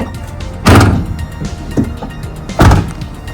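Two heavy thuds of a 2019 Ford Transit XL van door shutting, close and solid, with some rattling and handling noise in between.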